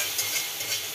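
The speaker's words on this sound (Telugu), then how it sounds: "ఈ పోపులో ఈ పప్పు వేసుకోవటమే." Dal being stirred into a hot, sizzling oil tempering for an orange dal, a brief close crackle and scrape of the spoon with no talking.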